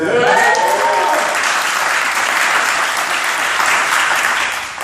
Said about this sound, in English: if you with that, let me hear an applause